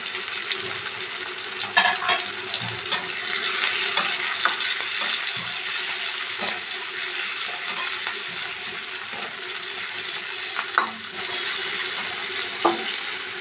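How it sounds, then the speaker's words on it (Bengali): Onion and green chilli fry in a pan with crushed garlic, producing a continuous sizzle broken by repeated scraping stirs and small clinks, with no voices. "দিয়ে দিলাম পেঁয়াজ। এবারে আমি কাঁচা লঙ্কাটা দেবো।"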